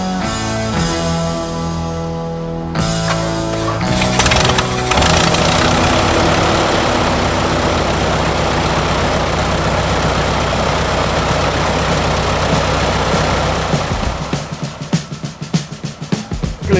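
A Long-EZ canard aircraft's 180-horsepower Lycoming O-360 engine cranks, catches and roars up, then settles into a loud, steady, close idle before cutting to uneven chugging and stopping.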